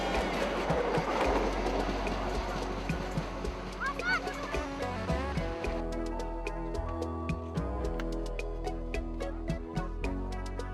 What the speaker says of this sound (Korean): 기차의 최고 속력은 시속 40km.